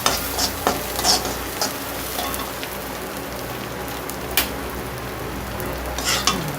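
Dal mixture frying in an oil-filled pan for raw banana usili, a steady close sizzle with occasional sharp stirring scrapes and spatters throughout, no voices.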